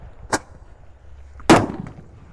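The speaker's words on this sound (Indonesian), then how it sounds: "menyalakan banyak sekali mercon petasan dan kembang api spesial tahun baru 2025" Two New Year 2025 firecrackers go off as separate sharp bangs, the second louder and nearer, with a short fading crackle after it.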